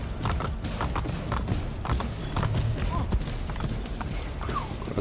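A horse gallops in Assassin's Creed Brotherhood, steady rhythmic clip-clop of hooves pounding close and loud throughout, with faint game ambience and occasional voices underneath.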